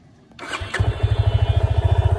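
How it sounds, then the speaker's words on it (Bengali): A Yamaha FZ-25 motorcycle starting on its electric self-starter: a short whir of the starter, then the engine catches and settles into a steady, throbbing idle close by. "আর এটা হচ্ছে ইঞ্জিন কিল সুইচ আর সেলফ স্টার্ট"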